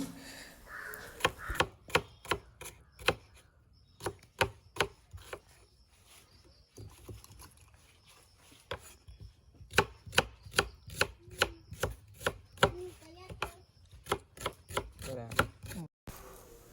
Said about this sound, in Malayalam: ഇതാ ഞാനിതിൽ ഉള്ളി അരിഞ്ഞിട്ടിട്ടുണ്ട്